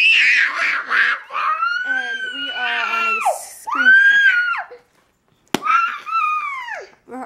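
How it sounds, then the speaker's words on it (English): Children scream at home in loud, high, wavering bursts, several long wails in quick succession that break off briefly before another shrill cry. "We're on a screaming fest."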